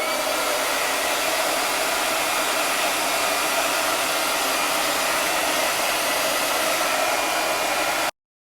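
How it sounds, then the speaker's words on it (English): A blow dryer runs steadily at close range drying wet paint on a home decor piece, a loud, even whooshing roar for about eight seconds that then cuts off abruptly. "I'm going to grab my blow dryer just to make sure we get that."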